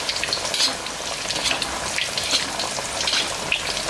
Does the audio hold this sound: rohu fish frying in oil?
yes